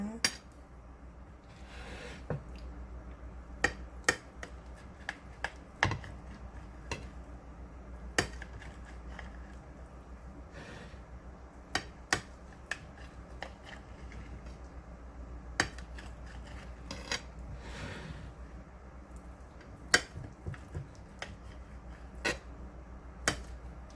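A knife cuts through a cooled steamed tofu, egg and vegetable dish on a plate, giving scattered sharp taps and clicks against the surface at irregular intervals, fairly close, over a quiet room background.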